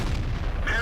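A tank cannon firing in a tank combat game gives a single heavy, booming shot with a deep low rumble, followed by a brief brighter crack near the end.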